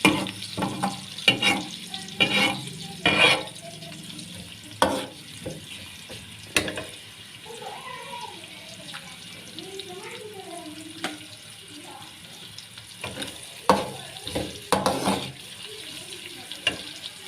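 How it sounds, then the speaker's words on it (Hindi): Onions fry and sizzle in oil while a utensil stirs and scrapes the pan in bursts, close by, with faint background kitchen noise. "मैं इसीलिए प्याज ब्राउन करूँगी"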